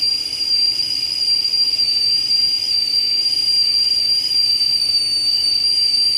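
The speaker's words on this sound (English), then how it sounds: "It blows steam in 3 directions," A Chefs Secret 3.17-quart tea kettle whistles with a steady, loud, piercing high tone while steam hisses out underneath, holding constant throughout with no voices.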